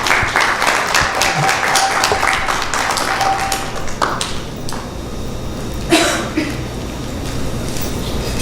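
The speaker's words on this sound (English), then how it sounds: "Please give him a warm round of applause." Audience at a Gita Jayanti gathering applauds as a speaker is welcomed, moderately loud clapping with distinct individual claps, coughs and thumps mixed in, tapering into scattered claps.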